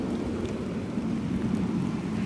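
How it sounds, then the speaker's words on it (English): Rain begins falling outdoors in an old Texas town square, a soft continuous hiss and patter with a low rumbling undertone, steady and fairly faint with no voices. "And it's starting to rain."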